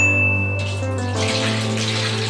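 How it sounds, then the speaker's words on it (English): Water poured into a very hot oiled pan while cooking bakso, a steady close rush of liquid that swells into a broad hiss and sizzle partway through, over a constant low electrical hum. "Now, let's put the water."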